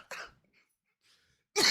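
A single short cough rises out of near silence, followed by a faint breath and then a second, louder cough or throat clearing close to the microphone.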